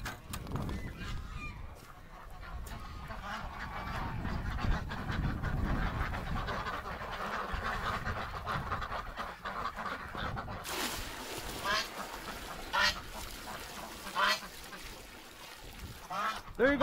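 Geese honk repeatedly at a distance over a windy outdoor background, calls scattered through the stretch with brief rustles and bumps nearby; no speech.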